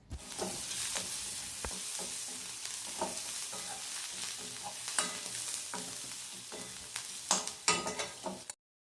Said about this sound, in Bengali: তো দেখো পেঁয়াজটাকেও একদম লাল লাল করে ভেজে নিয়েছি।